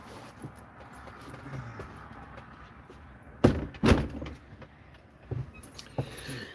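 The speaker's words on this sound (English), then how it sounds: "I'm going to shut this door." A door being pushed shut inside a tiny house on wheels, heard as two firm thumps close together midway through, with quiet room noise and faint traffic around them and a few softer knocks afterward.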